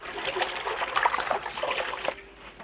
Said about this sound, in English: So with bok choy, again, you just use your hand and you wash every piece.